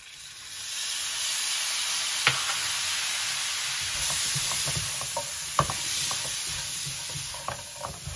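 Spices for sukuti pickle fry in a pan while being stirred, a steady hissing sizzle broken by occasional sharp clicks and scrapes of the spoon, close and even.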